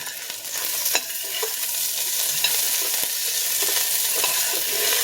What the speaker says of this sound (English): So we continue cooking the mushrooms and the bean curd together in the pot for another 2 minutes